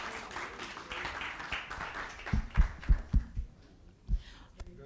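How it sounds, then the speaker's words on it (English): A small crowd at an innovation hacklab event claps a few scattered, uneven bursts for the first winner, starting under a faint background murmur and thinning out toward the end. "Clap, clap, clap, clap, clap."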